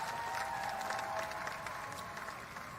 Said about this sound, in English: let's give the staff in general at Howard University here a round of applause